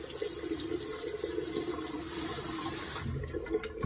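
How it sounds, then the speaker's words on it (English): A tap runs steadily as a shaving brush and razor are rinsed under it, giving a continuous close splashing rush that shifts slightly near the end as the flow is disturbed. "And then you rinse off the brush, as Jim said. And then rinse off the razor."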